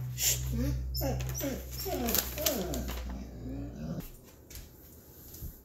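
A female dog named Luna whimpers indoors in a run of short, rising and falling whines, close to the listener, over a low steady hum, before the sound settles into quieter background noise.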